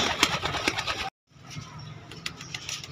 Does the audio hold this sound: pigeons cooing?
yes